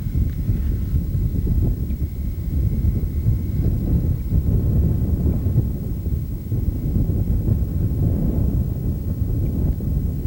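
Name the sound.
strong wind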